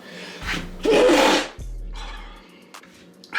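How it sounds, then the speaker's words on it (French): A single loud sneeze bursts out close by, followed by quieter rustling and background sounds. "À tes souhaits."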